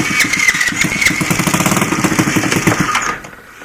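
A water-seized 70cc Chinese ATV engine cranks on its electric starter in a fast, steady chugging rhythm, loud and close, for about three seconds before cutting off.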